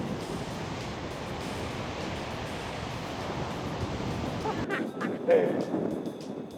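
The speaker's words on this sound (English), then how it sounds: "When it's this windy and the waves are just like crashing in" Strong wind and surf roar steadily on an exposed island coast, a dense continuous wash of crashing waves and gusts that drops away abruptly near the end, leaving quieter surf.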